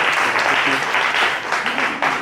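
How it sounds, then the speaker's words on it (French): An audience at a music camp claps for a performer, dense sustained applause that holds loud and close for the whole stretch, with a few faint voices mixed in. "On applaudit Jess."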